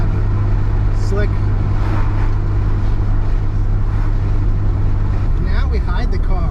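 A stock turbo Dodge Stealth fitted with a Chrome ECU and driveline upgrades cruises on a road, its engine a steady, loud low drone with constant road and wind roar throughout, and a brief shift in tone near the end.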